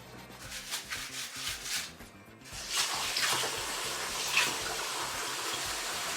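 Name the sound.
water wetting stretch foil sheet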